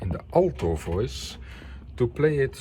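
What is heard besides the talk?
No everyday noises stand out.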